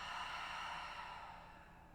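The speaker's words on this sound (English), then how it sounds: "Exhale out the mouth, clearing breath" A single long breath exhaled out through the mouth during a guided breathing practice, a soft airy rush that fades gradually, close and alone.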